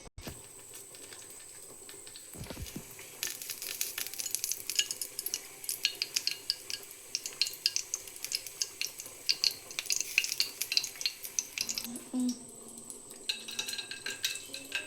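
Cashews fry in ghee in a pan for payasam, a soft continuous sizzle with frequent light scraping and clinking of a spoon stirring against metal, no voices.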